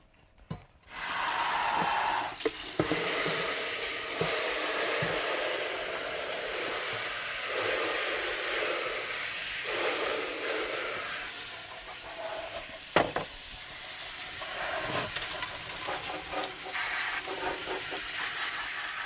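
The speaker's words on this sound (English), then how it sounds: "we're going to use the water to rinse out the bucket and then rinse through the sample" Pressurised water spray rinsing out a bucket and washing through a river invertebrate sample, a steady broadband hiss running almost continuously with brief splashes and knocks, fairly close and loud.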